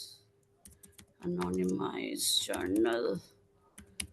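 Computer keyboard keys tapped during an online software demo, a few light clicks sitting around and under a presenter's speech in a quiet room.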